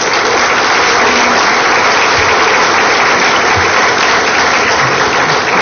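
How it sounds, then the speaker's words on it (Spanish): Loud, dense applause from an audience welcoming a congresswoman, a steady wall of clapping that holds evenly throughout with no voices standing out. "a quien saludamos con fuertes aplausos,"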